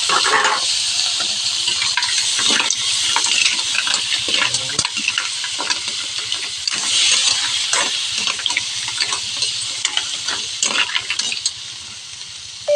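A sautéed tomato and onion dish simmering and sizzling in a pot, a steady loud frying hiss with intermittent stirring scrapes and clicks, no voices over it.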